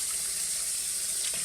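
Cold water from a tap runs steadily into the second basin of a kitchen sink, a continuous close hiss with no talking.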